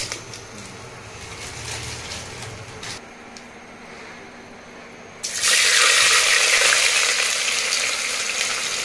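Bay leaf and cinnamon hit hot ghee in a pan for chicken biryani, bursting into a loud, steady sizzle after a quieter stretch of kitchen noise, close by and continuous to the end.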